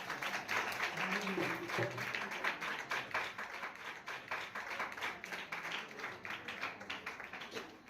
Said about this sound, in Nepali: तुम लोग को बोलना जोरे ताली मारो